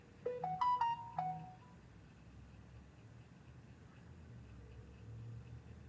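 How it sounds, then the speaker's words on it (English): A phone rings with a short rising melodic tone in the first second or so, clear but modest in level, then fades into a low rumbling background hum. "I hear the phone ringing and it's not mine."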